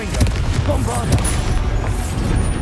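Booming blasts of the Bombarda explosion spell in Hogwarts Legacy, a heavy continuous rumble of loud, close detonations as a voice calls out over the battle.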